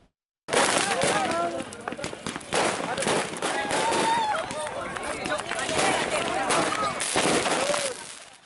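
Firecrackers pop and bang again and again during a pre-dawn street brawl among hundreds of young men in Panji, Situbondo, East Java, with sharp bursts over crowd noise and shouting.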